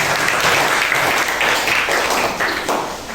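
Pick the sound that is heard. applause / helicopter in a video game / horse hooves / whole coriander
applause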